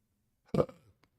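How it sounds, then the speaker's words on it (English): One short, close burp, a single guttural belch that fades quickly into silence. "Also, I did burp."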